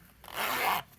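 A zipper is pulled open in one smooth, steady stroke on a sewn fabric pocket of a vintage sewing machine cover, close and clear, lasting under a second.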